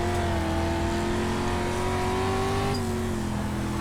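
Dirt street stock race car in the iRacing sim at Lanier National Speedway, engine droning steadily at high revs with a sustained harmonic whine that shifts pitch slightly, continuous and close throughout.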